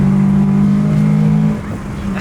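Manual Ford Mustang 5.0 engine roaring loud and close under hard acceleration, a steady heavy drone that drops off toward the end.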